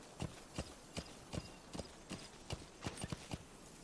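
Horse hooves clip-clop in the video game Metal Gear Solid V: The Phantom Pain, a steady trotting rhythm of roughly ten distinct soft hoofbeats, quiet and even.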